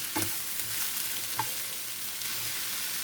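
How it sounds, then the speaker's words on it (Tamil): Sliced radish and onion fry in a pan with salt, stirred briefly with a few soft scraping strokes over a low, steady sizzle. "சால்ட் போட்டு ஒரு கிளறிட்டு"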